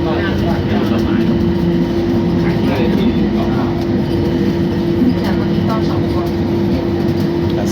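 Ride aboard the driverless, rubber-tyred BTS Gold Line train in Bangkok, a loud, steady interior rumble and hum with faint rhythmic clicks, continuing unbroken throughout.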